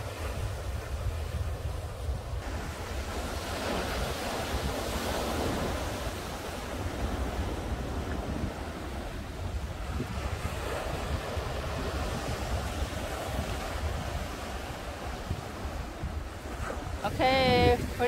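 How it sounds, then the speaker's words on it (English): Waves break on a New Hampshire beach in a continuous, fairly soft roar, mixed with heavy wind noise on the microphone, and a brief high chirp near the end; no voices are heard. "It's close enough you can see the waves."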